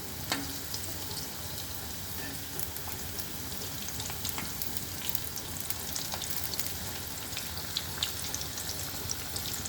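Stuffed spiny gourd (kakrol) filled with lentil paste frying in a pan of oil, giving a steady dense sizzle with faint scraping as the pieces are turned, close and continuous throughout.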